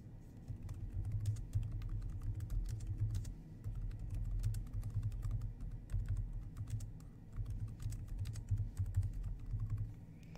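Someone types a message on a computer keyboard in a steady run of close, light key clicks with brief pauses, no talking.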